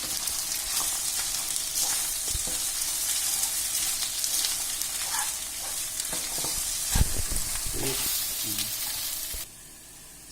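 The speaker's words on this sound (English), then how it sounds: "Mixing and mixing our rice with eggs." Rice and eggs frying in a pan, a loud continuous sizzle with the scrape and knock of a spatula stirring, close up and without talk, cutting off abruptly at the end.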